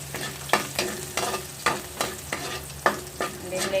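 Garlic frying in oil until golden brown for Chinese chicken rice, loud steady sizzling with rhythmic spatula scrapes and taps against the pan about every half second.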